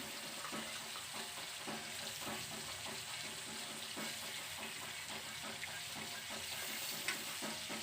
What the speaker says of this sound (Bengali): পটলগুলো আমি এক একে নামিয়ে নিচ্ছি